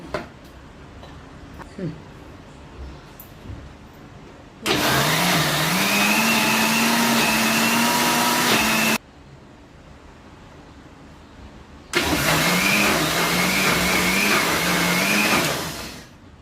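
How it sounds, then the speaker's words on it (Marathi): An electric kitchen mixer churning cream into butter, running in two loud steady whirring bursts of about four seconds each, separated by a quieter pause with faint background noise. "आणि मी हे हलवणार आहे मिक्सरमधनं"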